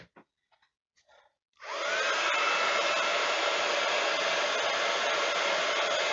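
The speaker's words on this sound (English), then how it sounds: "Just warming the heat gun up." A craft heat gun used for heat embossing switches on after a few faint handling taps and blows with a loud, steady whooshing roar, close by and uninterrupted to the end.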